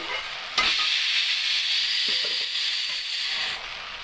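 Meat with added spices is stirred and sautéed in a pan, a continuous close sizzling hiss broken by a few louder scraping strokes.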